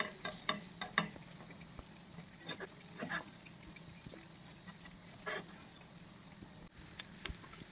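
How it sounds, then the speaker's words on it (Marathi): Pav bread toasting in butter on a pan with a little coriander and bhaji, making a quiet, close sizzle. Soft scraping and tapping knocks sit over it, louder near the start and sparse later. "बटर टाकलं त्यासाठी, थोडी कोथिंबीर, थोडी भाजी, त्याच्यावर पाव शेकून घेऊ।"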